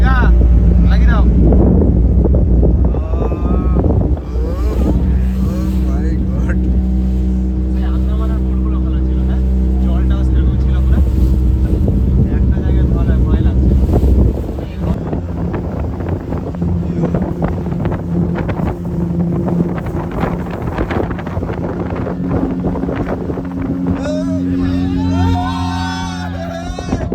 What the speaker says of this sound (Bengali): একদম মাঝ সমুদ্রে চলে এসেছি, প্রায় অনেক নৌকা আর মারাত্মক ঢেউ।